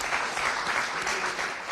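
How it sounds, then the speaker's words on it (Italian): A brief burst of audience applause during a Veneto regional TV news broadcast, steady dense clapping lasting under two seconds, moderately loud with no speech over it. "facciamo un applauso"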